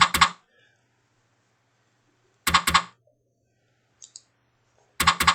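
Three sharp double clicks from a computer mouse, close and crisp, spaced a few seconds apart in near silence.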